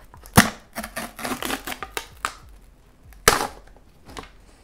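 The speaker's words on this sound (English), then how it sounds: "Now we're gonna peel off the foil seal." A foil seal is peeled off a Mystery Flavor Pringles can, with close crisp tearing and crinkling crackles in irregular bursts and a sharp rip near the end.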